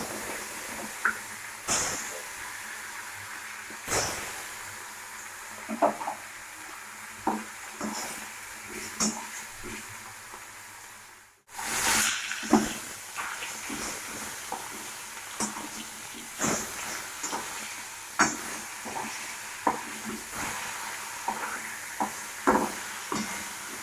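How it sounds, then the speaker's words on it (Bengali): Fish frying in hot oil in a wok: a steady sizzle runs throughout, broken by scrapes and knocks from stirring. The sizzle briefly dips to near silence midway, then returns. "এবার মাছগুলো আমরা ভেজে নেব।"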